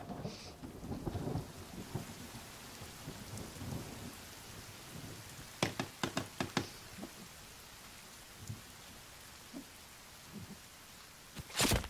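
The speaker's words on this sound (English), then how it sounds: "Likes to rain a lot, that's for sure." Rain falls steadily in the video game The Forest, a soft constant hiss with scattered sharp drops and crackles. One cluster of crisp impacts comes near the middle, and the whole scene stays quiet and distant.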